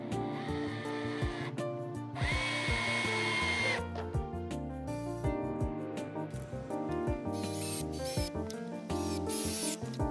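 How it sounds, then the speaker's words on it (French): A power drill drives a screw into wood, its motor whirring in loud bursts that rise and fall in pitch as the bit spins and stops, close and alone. "Grâce à la forme de la mèche, la tête de vis va venir se poser tranquillement sur le bois."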